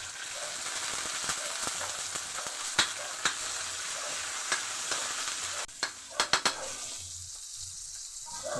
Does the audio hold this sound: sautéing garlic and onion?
yes